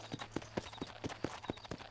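Horse hooves clip-clopping in Red Dead Redemption, a steady run of evenly spaced hoof strikes at a trotting rhythm over a low background hum, with no talk.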